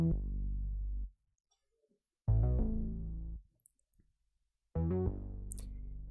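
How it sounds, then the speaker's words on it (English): A synth bass in an FL Studio afrobeat beat plays three sustained, harmonically rich notes, each about a second long and separated by silent gaps, loud and alone with no other instruments. "more like a synth bass"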